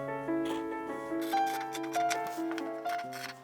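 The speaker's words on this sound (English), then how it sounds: "I also need to cut these shoulder straps" Scissors snip through fabric while shoulder straps are cut for a superhero costume, producing soft, scattered crisp cuts under steady background music.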